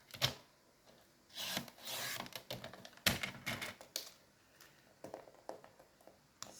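Scrapbooking paper is cut by hand, giving close, quiet scraping and rasping strokes with soft clicks and taps between them, in irregular bursts.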